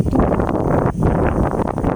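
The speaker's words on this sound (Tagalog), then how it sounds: "Grabe, lakas ang hangin." Strong wind buffets the microphone in a steady, roaring rush with a brief lull midway, no voices heard.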